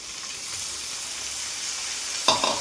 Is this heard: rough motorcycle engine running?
no